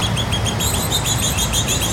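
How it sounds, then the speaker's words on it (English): Adult male oriole in Prospect Park, Brooklyn, giving repeated clear whistled calls in a steady series over a low rumble of city background, with no voices. "I'm sure that's an oriole."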